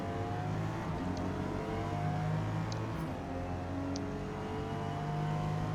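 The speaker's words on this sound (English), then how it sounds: "with this 8-speed gearbox in this thing, I'm doing a lot of shifting in this car" Toyota Supra GR with an 8-speed gearbox laps Homestead Miami in Forza Motorsport, its engine droning steadily with harmonic bands and faint clicks as it shifts through gears, sustained and fairly quiet throughout.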